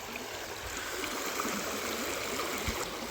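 Stream water flowing at a natural water source along the Centennial Trail, a steady close rushing and trickling wash that fills the whole stretch with no voices.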